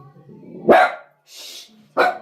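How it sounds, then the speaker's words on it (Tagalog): A small dog barks sharply twice at close range, with a short breathy huff between the barks. "Tapang liit ng aso."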